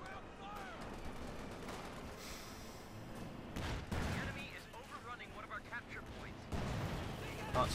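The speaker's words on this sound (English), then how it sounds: "Lots of shots being fired, then mortar rounds, everything else." Gunfire and mortar rounds from the video game Company of Heroes 2 form a dense, continuous battle din of shots and bursts, with heavier booming impacts rising at intervals and a voice talking throughout.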